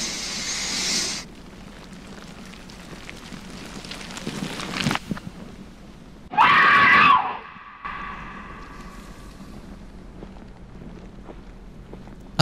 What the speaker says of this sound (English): Oh, somebody screaming.